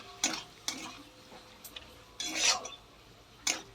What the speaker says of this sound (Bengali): তারপরে আবার নাড়বো